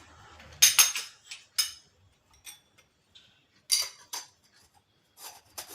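Sparse metallic clinks and taps as the mesh disc is oiled and fitted onto a metal chakli press, a few sharp clicks scattered across near silence.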